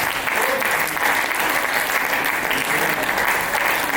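Loud, sustained applause from a large audience at an awards night in Lucknow, steady clapping filling the hall without a break.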